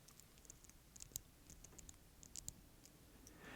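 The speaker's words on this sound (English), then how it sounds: "you're going to hear shuffling of those magnets" Magnets in a blue leather loop Apple Watch band shuffle close to the microphone, producing faint, scattered clicks and light taps in an irregular patter over a quiet background.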